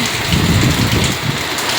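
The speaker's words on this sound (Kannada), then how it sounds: "ಹೊರ್ಗಡೆ ಬೇರೆ ಸಿಕ್ಕಾಬಟ್ಟೆ ಮಳೆ ಬರ್ತೈತೆ" Heavy rain pours outdoors as a loud, dense, constant roar with a low rumbling undertone, steady throughout the short stretch.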